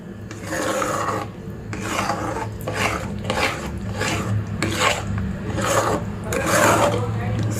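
Steady, close scraping and rasping of a spoon stirring a thick semolina and fig mixture with sugar syrup in a pan, continuous with rhythmic strokes and a low hum underneath.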